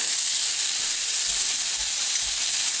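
Pork sizzling loudly in a pan, a dense continuous hiss and crackle close up, with soft low thumps as the meat is flipped, no voices.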